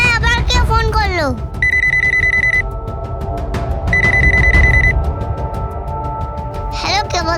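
A home telephone rings in a domestic drama scene, sounding two loud, evenly pitched electronic ring bursts with a pause between them, framed by a voice talking before and after.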